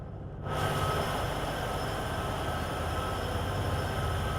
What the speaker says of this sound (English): at least I remembered how to get the train rolling in the first place